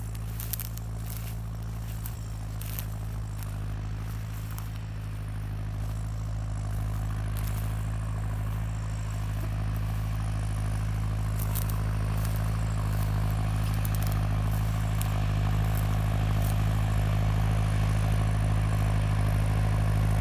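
A Massey Ferguson 5445 tractor engine runs steadily during stubble work, giving a constant low diesel drone with a mechanical clatter that grows slightly louder over time.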